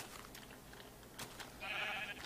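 A sheep in a video game gives a short, faint bleat after being punched, brief and quiet amid low background sound.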